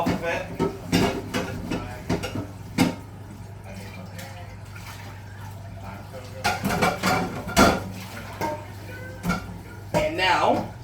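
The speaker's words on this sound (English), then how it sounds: "clean off your pan, get all the stuff off of it" A frying pan is scraped and rinsed clean after cooking vegetables, with clanks and scrapes of metal and dripping water in a kitchen, under a steady hum and intermittent talking.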